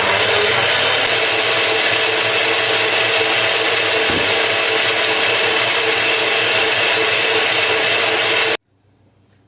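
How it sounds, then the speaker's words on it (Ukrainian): An electric hand mixer whips soft butter into cream, a steady loud motor whir running continuously for over eight seconds before cutting off abruptly into near silence. "м'ягеньке беру масло і збиваю"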